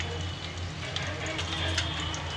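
Garlic slices and four dried red chillies fry in oil in a pan, giving a steady close sizzle with a faint low hum underneath.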